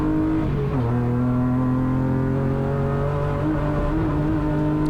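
A BMW E36 rallycross race car drives at speed with a loud, close engine whose pitch dips sharply early on, then holds a strong, steady howl.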